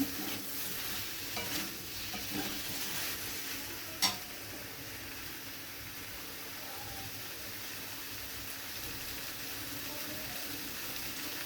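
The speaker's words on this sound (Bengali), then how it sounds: "সয়াবিনগুলো দিয়ে আবার একবার ভালোভাবে মশলার সাথে মিশিয়ে নিচ্ছি।" Soybeans being mixed with spices in a pan make a soft, low-level frying hiss, with light stirring scrapes early on and one sharp knock near the middle before a steady quiet sizzle.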